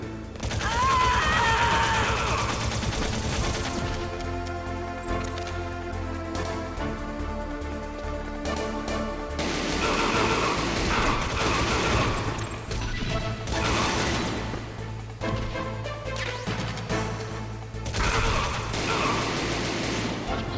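Gunfire and crashing impacts in the video game Metal Gear Solid come in irregular bursts over a continuous game music bed, with loud mechanical clatter and thuds throughout.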